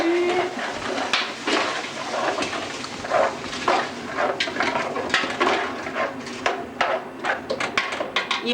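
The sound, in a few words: stirring salt pork, ham, onion, leek and garlic in pot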